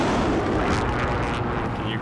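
Dense gunfire and explosive bursts in a multiplayer shooter video game, loud and continuous throughout with a steady wash of shots and blasts, and voices talking underneath.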